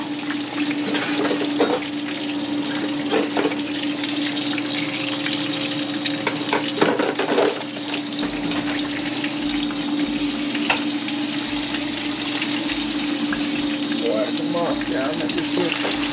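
Large batch of chicken wings deep frying in hot oil, a loud continuous sizzle and bubbling close by with occasional stirring clatter, and a voice talking briefly over it.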